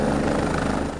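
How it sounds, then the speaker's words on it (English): A helicopter coming in to land, its rotor and engine making a loud, dense, steady roar with a fast chopping flutter, close by and filling the whole second. "Once the helicopter has landed, do not approach it unless escorted by a flight crew member."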